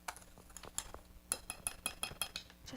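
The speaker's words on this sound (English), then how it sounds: "So I'm just using my fork to cut the butter into the flour" A fork cuts cold cubed butter into a bowl of flour and cinnamon for an apple crisp topping, making a run of close, light metallic clinks and scrapes against the bowl in a steady rhythm.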